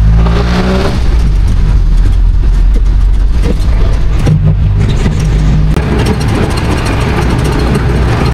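A jeepney ride along the road to Mahogany Market in Tagaytay, with a loud, continuous engine drone, shifting rumble and road noise close up, no voices standing out.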